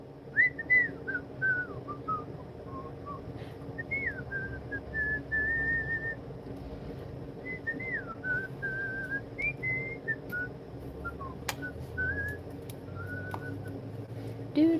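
A person whistles a wandering melody of sustained and sliding notes for the whole stretch, fairly close and clear above a low steady background hum, with occasional faint clicks.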